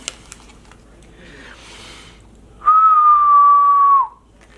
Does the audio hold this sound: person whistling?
yes